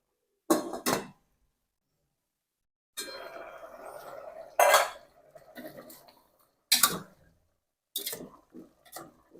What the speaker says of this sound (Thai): ปิดฝานิดนึงครับ